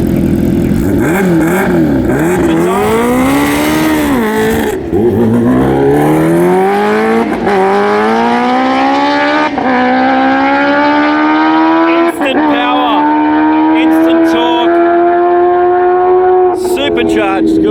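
Loud, close roar of nearly 300-horsepower stock motorcycle engines at a bike night event, revving and climbing in pitch, with throttle blips and sustained engine drone throughout.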